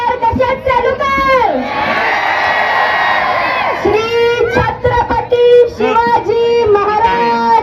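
A large crowd of spectators at a cricket prize-giving event with a lavani performance cheers and shouts loudly, a sustained roar rising in the middle, with amplified voices and whoops around it.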